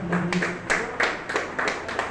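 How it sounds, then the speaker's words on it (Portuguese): Clapping from a church congregation, a short burst of scattered rhythmic handclaps with a few louder accents, moderately close under the room's murmur. "Palmas,"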